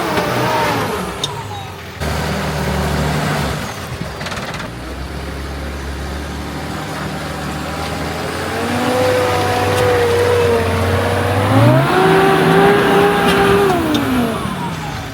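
An off-road patrol vehicle climbs a steep, hard track at full throttle, its engine droning loud and steady, then revving higher and straining as the pitch rises near the end.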